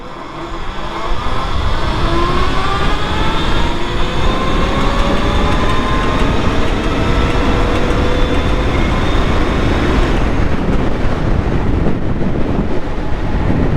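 An electric bobber motorcycle accelerates hard from 0 to 60 in third gear on a full charge, up a slight uphill. Close, loud motor whine climbs steadily in pitch, with heavy wind rumble throughout.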